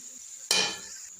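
Potato slices for crispy chips drop into hot oil, giving one sudden burst of bright sizzling that fades over about half a second against a faint kitchen hiss.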